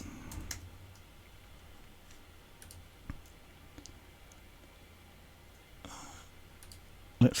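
Sparse, faint keyboard clicks tap out in short irregular bursts at a computer during web design work, with quiet pauses between keystrokes and a soft murmur of speech.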